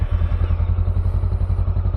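A Honda Rebel 500 motorcycle engine fires and runs close by, putting out a loud, rapid, even thumping pulse for the whole stretch, with no speech.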